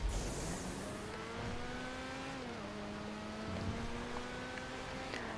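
A race car engine in GTA Online drones steadily and loud, its pitch holding, dipping briefly, then climbing again as it accelerates, with a short tire-squeal-like hiss at the start.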